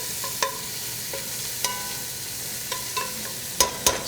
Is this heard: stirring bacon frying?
yes